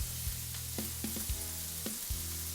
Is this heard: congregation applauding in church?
no